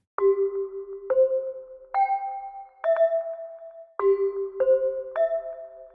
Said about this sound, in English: would strike a 7-note chime sequence on a set of hand chimes that he held next to the microphone